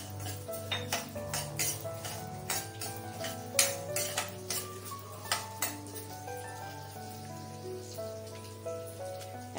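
Fenugreek seeds, urad dal and rice dry-roasting in a pan, with a busy patter of grains rattling and ticking against the metal and occasional sharper clinks of a spoon stirring, close and steady with no talk.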